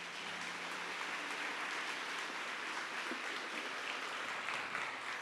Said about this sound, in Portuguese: Vamos aplaudir essa palavra do Senhor.